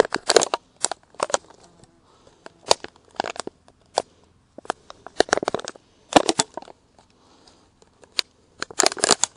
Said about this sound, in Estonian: Pudelisse tuleb naskliga teha mõned augud.